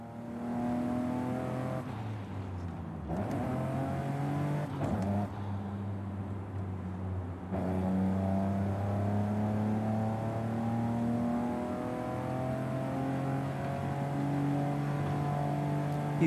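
A Volvo V60 Polestar engine in Forza Horizon 5 revs up through several gear changes, the steady rising whine dropping and climbing again, close and continuous with no talking.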